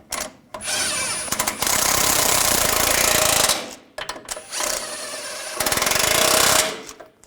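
Power tool driving bolts on a 4WD actuator of a 2014-2018 GMC Sierra 1500 5.3L V8, loud rattling bursts in two long runs with short pauses between.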